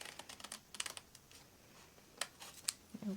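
Scissors cut through a paper card for a mixed-media journal, making a quiet run of small, crisp snipping clicks in quick irregular succession, close by and faint, with no voices.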